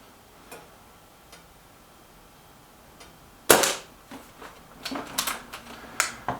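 Reximex Ixia Compact air rifle firing, a sharp snapping crack followed by a few quick lighter clicks and ticks, close and alone, with faint ticks in the quiet before it.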